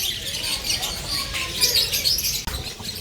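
Soft, rapid chirps and twitters of African lovebirds over a steady background hiss, with faint flutters, from a small flock nearby in a bird park.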